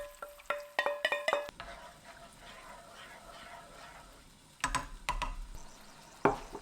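Ketchup-thinned water poured into chili shrimp frying in a pan, giving a soft hissing sizzle between sharp clatters of the utensil and pan at the start and end.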